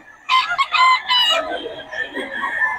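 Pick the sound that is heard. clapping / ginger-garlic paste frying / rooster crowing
rooster crowing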